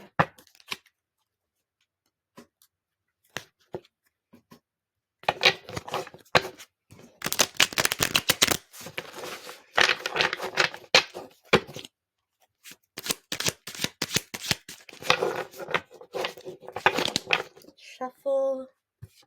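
A tarot deck is shuffled close up in bursts of crisp card riffles and slaps, with quiet gaps between and a short voice at the very end.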